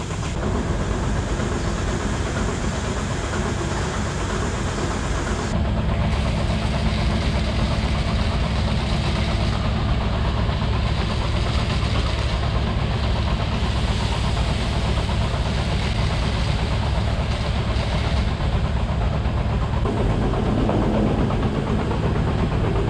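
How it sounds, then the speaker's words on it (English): A milk tank pump in a dairy milk house runs after being switched on by hand, giving a loud, steady mechanical hum and whir with a slight shift in tone partway through and no talking. "So this is the pump that I had manually turned on."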